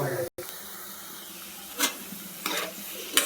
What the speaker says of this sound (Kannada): ಅದೇ ತೇಲುತ್ತೆ, ಫ್ರೈ ಆಗುತ್ತೆ ಕ್ಲೀನಾಗಿ.